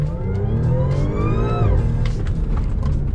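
Audi B8.5 S4 launching from a hold at about 4,000 rpm with 034 Motorsport launch control, engine loud and close as revs climb steadily under a rising whine, then drop with a shift and pull on again, with no talk.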